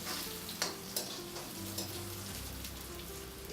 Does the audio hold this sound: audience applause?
no